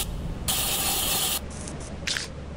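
Spray paint hissing in the video game Lethal Company, a loud sustained burst of broadband hiss followed by several shorter, fainter sprays, with no talk over it.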